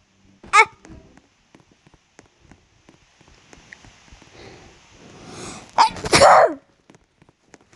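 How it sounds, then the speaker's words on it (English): Two sharp sneezes from a person, a brief one near the start and a louder, longer one later, close and forceful, with light background rustling and a faint voice between them. "that was a real live-action sneeze"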